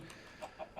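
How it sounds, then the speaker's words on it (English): Chickens in the video game Crash Landing give soft, quick clucks, three faint bursts in under a second. "Got some chickens over here."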